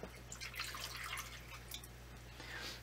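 Water being added to a container, a soft steady trickling and dripping over a constant low hum, faint and with no talk.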